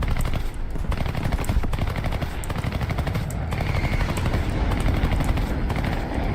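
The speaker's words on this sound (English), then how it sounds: "Right, we're taking anti-aircraft fire." Sustained anti-aircraft gunfire in the War Thunder combat game: dense, continuous rapid bursts with sharper individual shots cutting through, loud and close throughout with an engine-like drone underneath.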